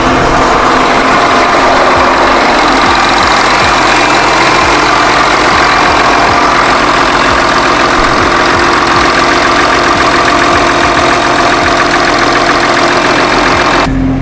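A Volkswagen Touareg TDI diesel engine idles loud and close with a steady, even clatter throughout, just after a high-pressure fuel pump filter install.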